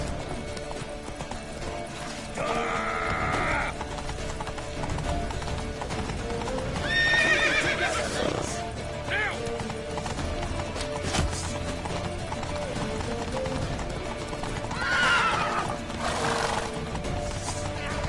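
Horses gallop with steady clip-clop hoofbeats in The Witcher 3 video game, while several loud neighs and whinnies rise over the running, with faint background voices and commotion.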